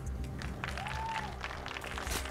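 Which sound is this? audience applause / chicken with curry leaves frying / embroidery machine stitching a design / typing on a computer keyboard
audience applause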